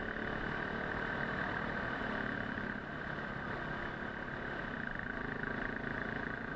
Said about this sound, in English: Here's a gravel road I decided to take to prove that I actually do ride on gravel roads.